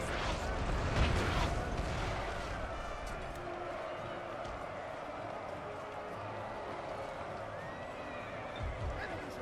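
Distant cannon artillery booms from a Napoleon: Total War battle rumble under a steady crowd-like battlefield din, with a louder burst early on and scattered thuds later.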